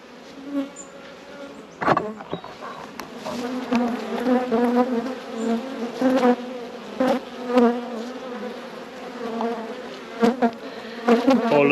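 Honey bees buzzing around an open single-brood beehive stacked with seven supers, a dense close drone of many wings rising and falling, with occasional knocks and bumps of hive parts.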